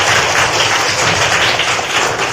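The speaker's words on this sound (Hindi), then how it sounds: "इसके लिए जोरदार तालियां बजाएं।" A classroom audience at a Kaun Banega Crorepati-style quiz bursts into loud, thick applause, a dense wash of clapping that fills the room evenly and continuously without talk.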